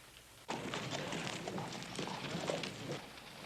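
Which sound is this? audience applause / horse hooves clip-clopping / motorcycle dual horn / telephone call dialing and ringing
horse hooves clip-clopping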